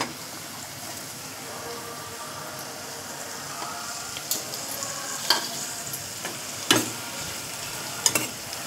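Chopped tomatoes fry in a pan with onion for sambar, a steady close sizzle with occasional stirring scrapes and a few sharp clinks of a spoon against the pan.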